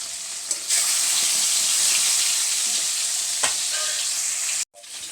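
Fish frying in hot oil in a pan, a loud, steady, crackling sizzle running continuously with a few sharp pops and a brief cut-out near the end.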